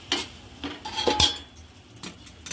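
A metal spoon scrapes and clinks against a cooking pot in a few short strokes while spreading masala for an egg biryani, close and fairly quiet.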